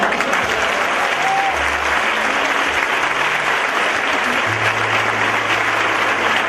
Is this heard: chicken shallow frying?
no